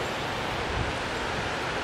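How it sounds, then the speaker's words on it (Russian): A steady broadband rush of a river in Canada flowing nearby, constant and even with no distinct events or voices. "Я слышу, что да, это река"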